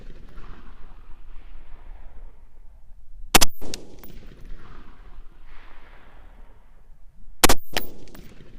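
Two sharp, loud gunshots from an AR-15 rifle firing 55-grain rounds outdoors in the desert, spaced about four seconds apart, each followed by a short echo over low wind noise.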